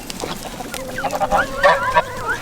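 Several geese honk and cackle close by, a burst of overlapping nasal calls growing busier toward the end.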